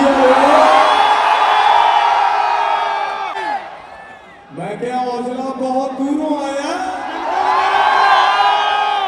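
A packed crowd at a concert in Delhi roars and whoops loudly, with many voices shouting and singing together. The noise dips briefly midway, then surges back to full volume.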